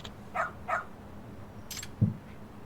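A dog in the Lost Judgment video game gives two short barks close together, followed later by a brief higher yelp and a single low woof, all over a faint game background.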